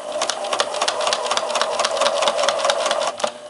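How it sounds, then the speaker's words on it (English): A sewing machine runs a straight stitch through fabric pieces, a rapid, even mechanical chatter heard close and alone, holding steady for several seconds before easing off. "I just use a straight stitch to assemble these pieces"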